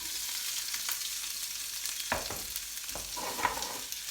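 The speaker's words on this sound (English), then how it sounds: "Right, now, onions in. It's really hot, be really careful. Peppers in." Onions and peppers fry in a very hot pan, a steady broad sizzle running throughout with a few stirring scrapes and clatters near the end; no one speaks.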